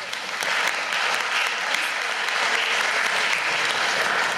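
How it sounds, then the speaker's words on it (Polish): A large audience applauds the senator at a dialogue gathering, even continuous clapping sustained at a steady level for several seconds, with no talking over it. "Będą brawa dla pana senatora."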